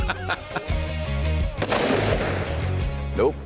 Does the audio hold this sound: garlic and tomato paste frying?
no